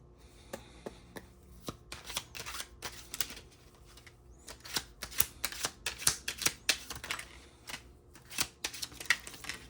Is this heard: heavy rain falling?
no